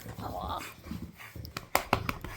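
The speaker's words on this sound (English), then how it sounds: "this dog is just so funny to me. Makes the funniest sounds" A dog whimpers and whines in short, squeaky bursts, close by, ending in a few sharp yelps.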